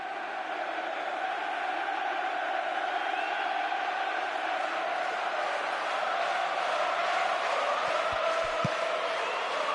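Stadium crowd noise from the PES 2016 football video game on PS4, a dense, steady roar of cheering spectators that holds loud and even throughout, with a few brief low thumps near the end.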